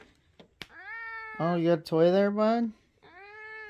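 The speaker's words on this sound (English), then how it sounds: "You can hear my cat in the background." A pet cat meows repeatedly and loudly close by, a drawn-out series of mews, while a person speaks to it softly before and after.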